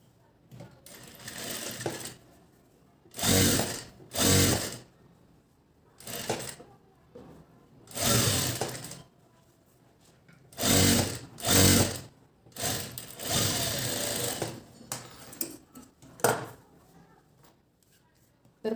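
A sewing machine stitches a size-32 blouse in a series of short, loud bursts of whirring separated by pauses, close up, with some handling noise between runs.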